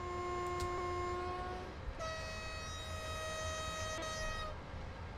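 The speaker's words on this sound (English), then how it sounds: "I forgot to blow the horn." Polish EU07 electric locomotive horn in the train simulator game SimRail, two sustained harmonic blasts, the first about two seconds and the second longer, loud over steady engine and rail rumble with no talking.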